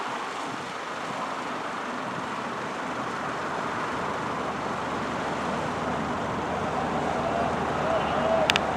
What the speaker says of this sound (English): Oh yeah, this is a great noise to fall asleep. Except for the car noises, but the water, yes.